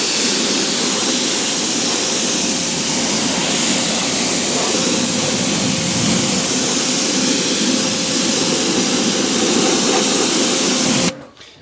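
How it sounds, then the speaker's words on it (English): Water spray rinsing the wheels of a 2007 Subaru WRX, a steady, loud hissing rush that holds constant for about eleven seconds before cutting off abruptly. "I give them a real quick rinse down."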